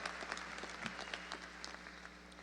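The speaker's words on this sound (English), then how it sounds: "Let's give him a round of applause." An audience at a 2019 Alabama A&M University spring commencement claps in a steady burst of applause, fairly distant and faint, with sharp individual claps standing out from the spread of sound.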